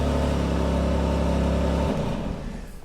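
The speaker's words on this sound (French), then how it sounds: "Et le moteur peut à nouveau démarrer." A BMW car engine runs at a steady, loud idle with a constant low hum, then drops off near the end as the tone shifts and the sound fades.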